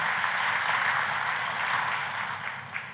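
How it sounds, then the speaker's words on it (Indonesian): Congregation applause during a church sermon, a sustained wash of many hands clapping at moderate distance, steady for most of the stretch and thinning slightly toward the end. "Kita kasih tepuk tangan yang paling meriah buat Tuhan kita."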